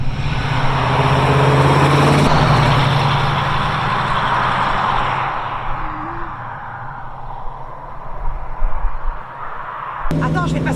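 A Chevrolet Camaro SS accelerates from inside the cabin. A loud, deep V8 roar swells and then fades as the revs fall, with a gearshift thump near the end and a voice talking faintly underneath.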